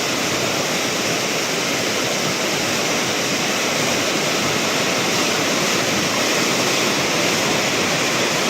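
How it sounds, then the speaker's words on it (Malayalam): A flash flood surges down the Kadantharappuzha river in Kozhikode district, a loud, steady roar of rushing water that fills the whole stretch with no pauses and no voices. "കോഴിക്കോട് ജില്ലയിലെ കടന്തറപ്പുഴയിൽ മലവെള്ളപ്പാച്ചിലുണ്ടായിരിക്കുകയാണ്"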